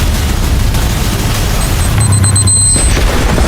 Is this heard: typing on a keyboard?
no